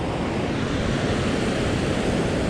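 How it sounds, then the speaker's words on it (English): Ocean waves surge and roll at Gunyah Beach, Coffin Bay, in South Australia, a dense, steady roar of surf with some wind buffeting the microphone and no voices. "Look at all those waves out there."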